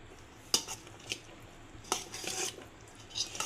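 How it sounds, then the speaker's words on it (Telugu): Spoon or ladle scraping and clinking against a metal vessel while mustard-flavoured tamarind rice (pulihora) is folded slowly, a few soft scattered clinks and scrapes close by. "ఇలా మెల్లిమెల్లిగా ముద్దయిపోకుండా కలుపుకోవాలి"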